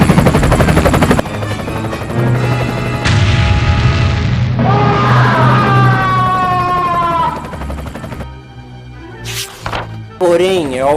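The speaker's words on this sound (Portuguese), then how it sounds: "porém é alvejado por um helicóptero" An attack helicopter firing on a monster in a Hulk animation, with loud rotor thumping, booms and bursts of gunfire mixed with dramatic music and rising sirens, while a narrator speaks over the chaos.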